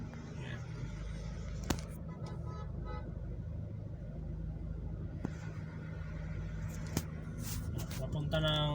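Road traffic in heavy congestion near an airport toll gate on the way out of NAIA toward Pasay, a steady idling and rolling vehicle rumble with a few short horn toots scattered throughout.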